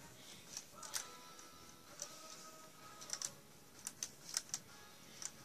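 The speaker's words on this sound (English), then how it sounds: "Hear that clicking?" Small plastic clicks from the wheel-lock mechanism of a K'nex toy portable generator as it is turned: scattered, faint, irregular ticks in quiet surroundings with no speech.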